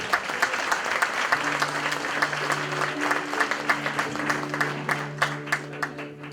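A concert audience at a hometown music event in Selfoss applauds steadily for a singer, dense clapping with a sustained musical tone humming underneath.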